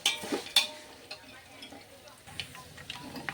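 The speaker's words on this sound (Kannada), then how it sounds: "ಇದಕ್ಕೆ ಚಂದೀಗ ಫ್ರೈ ಮಾಡ್ಕೊಳ್ಳಿ ಚಂದ ಎಣ್ಣೆಗೆ ಮಸ್ತ್ ಫ್ರೈ ಮಾಡ್ಕೊಂಡ್ರೆ" Food frying in oil in a home kitchen, a quiet sizzle with a few sharp utensil scrapes and taps near the start, soft and fairly distant.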